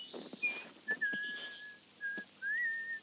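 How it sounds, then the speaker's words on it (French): A woman whistles a light, wavering tune played back from a cassette tape inside the watercolour indie game Dordogne, thin and fairly quiet with short breaks between sustained notes and faint tape hiss beneath. "Nora qui siffle."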